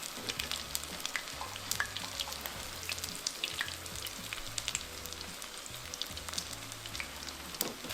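Ground beef and potato taquitos fry in hot oil with a soft, continuous bubbling sizzle and scattered pops, fairly quiet and steady, with no talking.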